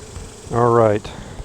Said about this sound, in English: We need to get the rest of the bees out of this box.